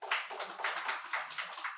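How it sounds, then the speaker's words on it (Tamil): Applause greets invited writers at a Tamil literary event, a steady patter of many hands clapping at moderate volume, continuing alone without talk for a couple of seconds. "கோவிந்தராசு பாண்டியன் ஆகியோரையும் உங்களின் பலத்த கரகோஷத்தோடு வரவேற்கிறேன்"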